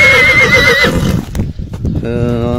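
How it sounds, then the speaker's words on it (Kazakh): A horse at a Kyrgyz horse sale neighs loudly and whinnies, with hooves clip-clopping and people talking throughout, up close. "атты токтото турсаңыз"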